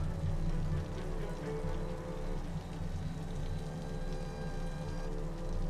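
Rain in the city-building game Cities: Skylines, a soft continuous patter with a faint background hum.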